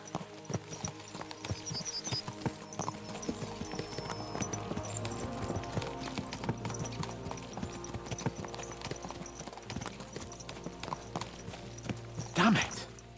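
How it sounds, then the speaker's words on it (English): Horses gallop in Kingdom Come: Deliverance 2, a dense, continuous run of hoof clip-clops over thirteen seconds with a brief louder burst near the end, heard alone without talk. "Let's really spur these horses on, eh?"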